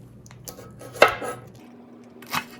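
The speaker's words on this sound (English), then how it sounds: "Cut each Brussels sprout into quarters" A knife cutting Brussels sprouts into quarters on a board, a few separate close chops with one sharp louder knock and a later thud, in a quiet kitchen with no talking.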